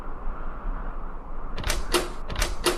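A locked castle door is tried, giving several sharp metallic rattles and clunks close by, three or four quick knocks in the last second after a quiet stretch of room tone.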